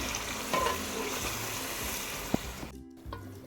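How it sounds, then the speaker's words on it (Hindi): Chicken karahi with yogurt frying in a karahi: a continuous close sizzle with light stirring clatter and one sharp utensil knock, then a sudden drop to near quiet near the end. "ये 1 प्याली हमारे पास दही की है, तो ये इसके अंदर हम शामिल कर दें। इसको हम 5 मिनट और भूनते हैं।"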